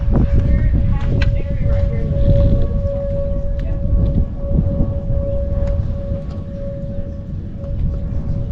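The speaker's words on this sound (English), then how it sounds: "And then the tornado sirens began." A steady wailing tornado siren drones on throughout in Oklahoma during severe weather, with people talking over it and outdoor rumble beneath.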